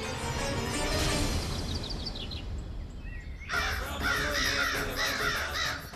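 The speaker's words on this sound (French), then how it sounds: "Les corbeaux sont là! Et ils mangent!" Several crows cawing outdoors, a run of harsh repeated caws rising clearly after a quieter, rumbling stretch with faint distant calls, fairly close and loud.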